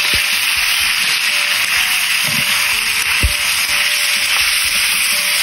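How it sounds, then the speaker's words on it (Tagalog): Chicken adobo with güya simmers and fries in oyster sauce, a loud steady sizzle filling the pan, with a few spoon scrapes and clinks as it is stirred, close and continuous. "Haluin lang natin yan."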